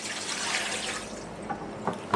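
Water pours into the bowl of a bread dough mixer as a steady close splashing stream, followed by a few small drips and knocks near the end.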